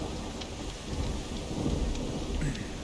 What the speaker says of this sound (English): Yeah, it's raining really hard.